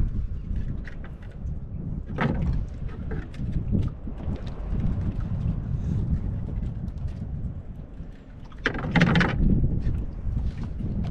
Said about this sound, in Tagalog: Lakas na maramdam ng hangin ng amihan